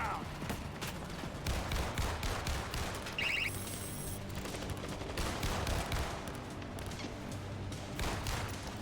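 In the zombie shooter World War Z, a turret lets off rapid bursts of gunfire, with repeated loud cracks running throughout amid mechanical clanks and game noise.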